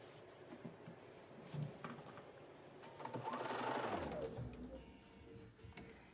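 A sewing machine stitches across a quilt block seam for a block-of-the-month quilt, a steady mechanical whir that swells to a louder run in the middle and then tapers off, heard close with no talking.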